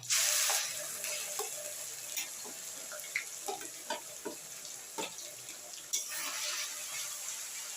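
Onion paste dropped into a pan of browned onions frying for chicken bharta, with a loud hiss at the start easing into a steady sizzle and scattered scraping clicks from stirring.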